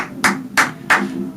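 Three sharp, evenly spaced hand claps land on the beat, close and crisp, each ringing briefly, with no talking.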